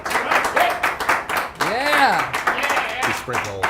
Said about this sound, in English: There's nothing like a round of applause when you come back from a break